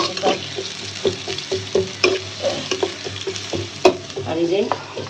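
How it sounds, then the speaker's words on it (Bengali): Onions and spices frying and being stirred in a pan for a rohu fish curry with pointed gourd, a steady close sizzle broken by repeated scraping strokes of the spoon. "পটল দিয়ে রুই মাছ দিয়ে রান্না করবো তো, একটু পেঁয়াজ দিয়ে দিলাম।"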